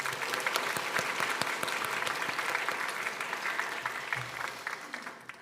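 Church congregation clapping in encouragement for seated youth members during a Sunday worship service: a dense, even round of many hands, fairly close, tapering off near the end.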